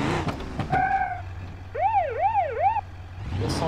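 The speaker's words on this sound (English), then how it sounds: "The sirens sound the same." Emergency vehicle sirens in the BeamNG.Drive driving game, near a fire station: a steady wail that shifts into a rapid rising-and-falling yelp over a low engine hum, preceded by brief clatter.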